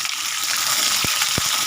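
Peanuts frying in oil in a pan with green chillies, a steady broadband hiss of sizzling throughout, with two brief low knocks or stirs near the end; no talking.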